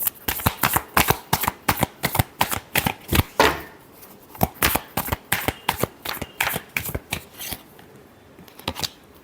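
Tarot cards being shuffled by hand, a rapid series of crisp riffling bursts in quick rhythmic succession, close and clear, with a brief pause midway before the shuffling resumes.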